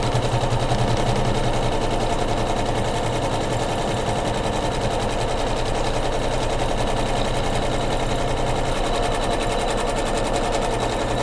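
An embroidery sewing machine tacks quilt batting in place on a pillow project, its needle hammering in a fast, even, unbroken rhythm close by.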